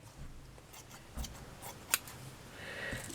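Scissors snip thread while a bracelet pin cushion is sewn by hand, a few faint, sharp close cuts in a quiet room.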